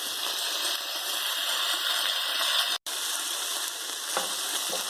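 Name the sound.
garlic sizzling in a frying pan with chicken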